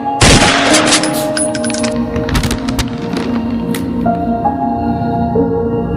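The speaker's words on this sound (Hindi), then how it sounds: "एक गोली चल गई।" A gunshot sound effect in a dramatized audio story: one sharp, loud blast at the start, followed by a ringing, reverberant tail and a few fainter clatters beneath a sustained tonal music bed.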